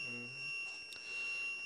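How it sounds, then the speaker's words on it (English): An audible timer alarm on a grinding machine sounds at the end of a cycle: steady, high-pitched electronic tones ringing continuously in a workshop, with faint low hum and no talk. "the timer goes off"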